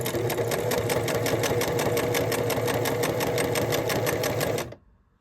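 A Singer 5817C sewing machine runs steadily, its needle chattering in a fast even rhythm close by for several seconds before stopping abruptly.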